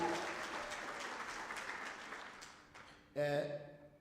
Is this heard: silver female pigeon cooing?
no